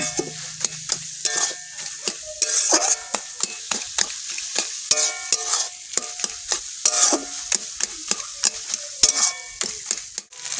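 Taro leaves cooking with grated coconut are stirred in a pan, with repeated close scraping and knocking of a spoon against the metal over a light sizzle in an irregular rhythm.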